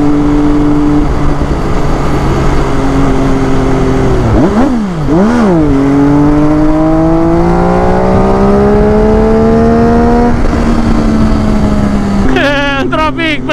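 Motorcycle engine droning steadily through road traffic, with rising and falling revs as the bike swaps between a scrambler and a supersport; a passing vehicle's engine and a brief horn-like tone near the end, under continuous close riding noise.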